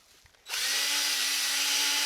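A power drill polishing a vehicle headlight whirs up suddenly after a brief quiet moment and keeps running at a steady high-pitched whine, close and loud.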